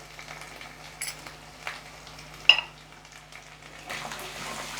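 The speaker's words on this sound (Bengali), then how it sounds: "আবার আমি কষাচ্ছি, ভাজছি এটা।" Ground spice pastes of dried chilli, onion, ginger and cumin are stirred and fried in a pan for muri ghonto. Soft, low sizzling runs under occasional scrapes and light utensil clinks, with one sharper tap.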